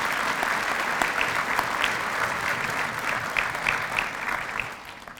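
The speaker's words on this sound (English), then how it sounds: "let's give our student ambassadors another round of applause" Sustained audience applause at a student banquet, a dense even patter of many hands clapping throughout, steady and fairly loud before tapering slightly at the end.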